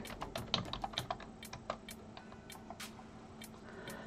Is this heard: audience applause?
no